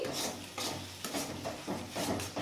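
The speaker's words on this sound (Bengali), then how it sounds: "এবার আমি মশলাটা ভালো করে কষিয়ে নেব।" Masala spices with poppy-seed paste being sautéed over raised heat for a morola fish dish, a soft repeated scraping and stirring with gentle sizzle, in steady rhythmic strokes.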